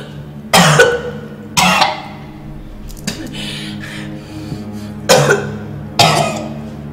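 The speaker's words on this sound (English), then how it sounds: "Coughing" Four or five harsh coughs come in separate bursts a second or so apart, close and loud, with a quieter rasp in between.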